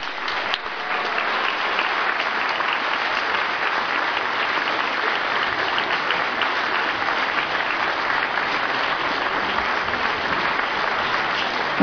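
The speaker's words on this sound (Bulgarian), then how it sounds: "Аплодисменти за децата на танцова школа Рали." Sustained applause from a large audience for children of a dance school at a stage performance, dense and loud clapping continuing evenly throughout.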